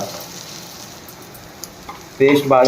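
A spice paste of whole spices including star anise, for a village-style okra and egg curry, fries in a pan with a soft, close sizzle. A voice starts talking over it near the end.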